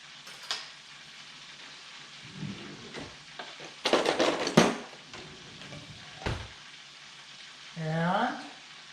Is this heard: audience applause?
no